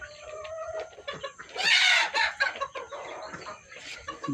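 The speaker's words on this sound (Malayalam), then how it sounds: "നല്ല കണ്ടീഷൻ കോഴികളാണ് ഫുൾ ആക്റ്റീവ് കോഴികളാണ്" Naked neck chickens cluck close by in short, irregular bursts, with one louder, harsher squawking call in the middle among softer clucks.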